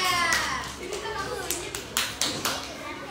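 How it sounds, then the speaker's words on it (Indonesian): Students in a classroom clap for a classmate in a few short, uneven bursts of handclaps close by, with children's voices talking over them. "Oke, beri tepuk tangannya pada Sakira."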